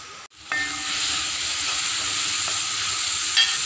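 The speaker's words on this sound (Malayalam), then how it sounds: "ഇനി ഞാൻ ഈ കടല ഇതിലേക്ക് ഒഴിച്ച് വെക്കും" Cooked chickpeas are poured into a sizzling pan of masala for kadala curry and stirred, giving a steady close frying hiss with a few scraping clicks.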